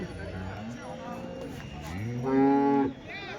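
HF and Jersey cows at a weekly cattle market in Punganur, with one close, loud drawn-out moo rising over a murmur of people talking nearby.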